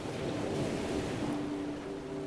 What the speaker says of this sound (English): You watch the waves for a moment longer, their steady rhythm reassuring.